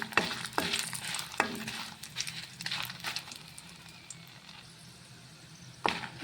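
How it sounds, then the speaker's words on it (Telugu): Dried red chillies frying in two spoons of oil, giving a soft, continuous sizzle close by, broken by a few sharp scrapes and clicks of a stirring spoon against the pan. "2 చెంచాల నూనె పోసుకొని ఎండుమిరపకాయలు వేయించుకుందాం."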